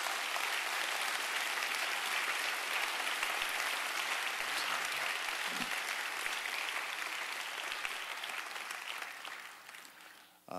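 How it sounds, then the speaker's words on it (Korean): A congregation's broad applause welcomes the CTS elders' choir at a Sunday church service, a sustained wash of many hands clapping that stays steady before fading and cutting off at the end. "한번 큰 박수로 다시 한번 맞이해 주시겠습니다"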